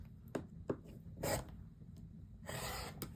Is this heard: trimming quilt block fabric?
yes